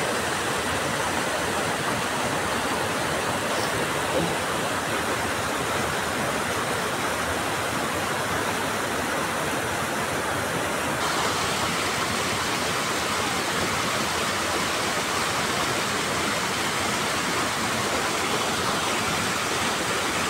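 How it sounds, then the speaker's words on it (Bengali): A waterfall at Jhalong among the hills pours with a steady, full roar of rushing water, dense and unbroken for the whole stretch, with no voices over it. "একদিকে পাহাড় আর একদিকে ঝর্ণার এত সুন্দর আওয়াজ"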